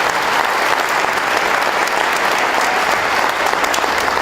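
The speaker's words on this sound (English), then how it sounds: "Let's hear it for Jake Weimer." Steady, dense crowd applause greets a Kawasaki Pro Circuit motocross rider being introduced, a loud continuous clapping wash that holds evenly throughout with no pauses.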